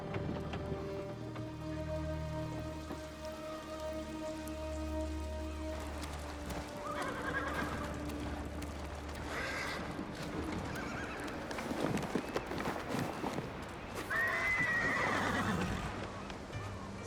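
In the video game Ghost of Tsushima, a horse's hooves clop steadily through a rainy scene, with rain pattering throughout. A clear, rising whinny comes near the end, and a faint voice speaks at times.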